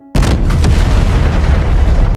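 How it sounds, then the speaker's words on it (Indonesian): Power plant blowing up in a film, a sudden loud explosion that cuts in abruptly and holds as a dense, thick roar and rumble for about two seconds before cutting off. "pembangkit listriknya meledak"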